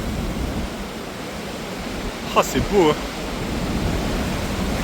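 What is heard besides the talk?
ocean waves crashing against rocks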